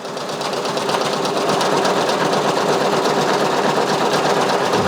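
A Brother Persona embroidery machine satin-stitches hook and loop fabric onto a flat-brim dad hat, giving a loud, steady, fast mechanical whirring and needle chatter that runs unbroken throughout with no talking.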